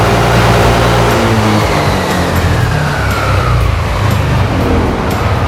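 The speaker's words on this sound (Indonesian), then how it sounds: "Ya, mesin tertahan dalam limiternya 7000." Yamaha Aerox scooter engine held against its 7000 RPM limiter by an aftermarket Juken 5 ECU, giving a loud, steady, buzzing rev with no breaks across the whole stretch.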